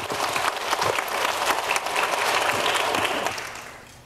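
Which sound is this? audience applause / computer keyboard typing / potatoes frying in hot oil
audience applause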